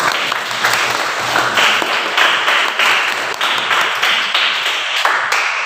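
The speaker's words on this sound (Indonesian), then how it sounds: "tepuk tangan untuk Aurel." A classroom of students applauds a classmate, a brisk, fairly loud patter of many hands clapping that runs steadily for several seconds, with no talking.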